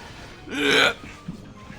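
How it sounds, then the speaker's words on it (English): A single loud hiccup from a person, one short sharp burst, close and clear, followed by quieter breathing. "I'm getting the hiccups, great"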